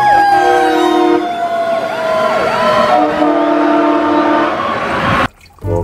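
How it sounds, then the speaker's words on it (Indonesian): A toy fire engine's electronic siren wails steadily with rising and falling tones, loud and close, then cuts off abruptly near the end. "Wow, yang ini mobil pemadam kebakaran teman-teman."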